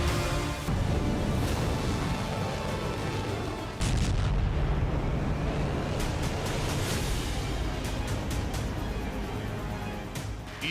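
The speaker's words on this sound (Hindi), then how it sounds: "ईरान की धरती पर यह पाकिस्तान की मिसाइल वर्षा है।" Missile explosions during a Pakistani strike on Iranian soil, a sustained dense roar of loud booming blasts with repeated sharp cracks rolling over one another for the full length, no voices.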